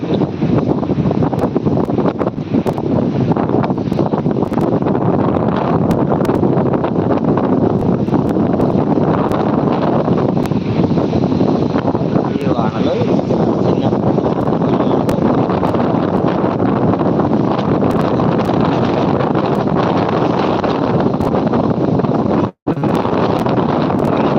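Strong wind roars steadily into the microphone during heavy rain, a loud unbroken rush with rain-like hiss throughout and no voices.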